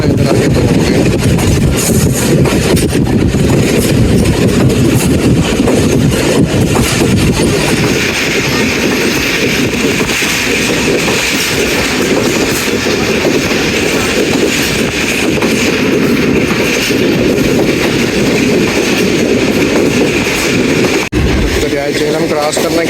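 The Jaffar Express passenger train running on rails between Attock and Lahore, a loud continuous rumble and rattle heard from on board, with steady rolling noise throughout and no clear talk.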